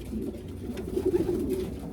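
Racing pigeons coo softly in a breeding loft, a low continuous burbling murmur under steady ambient noise.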